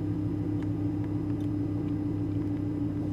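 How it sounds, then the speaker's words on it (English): A Mercedes-AMG GTS supercar idles and creeps in reverse, a steady low engine rumble with a throbbing exhaust note and faint ticks, close and unchanging. "That's how you reverse a car."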